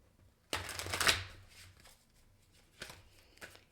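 Oracle cards from an Arrows of Love deck are shuffled close by, with one long riffling burst followed by a few softer, brief card flicks.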